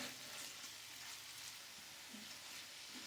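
Strips of chicken fry lightly in a pan, a faint steady sizzle with soft crackling and occasional stirring noises, heard alone without talk.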